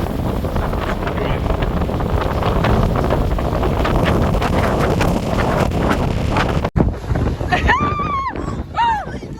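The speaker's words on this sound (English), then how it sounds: "And the wind is blowing so hard, it's blowing sideways." Strong wind roars steadily against the microphone for several seconds, then drops suddenly to quieter gusts with a few faint high calls.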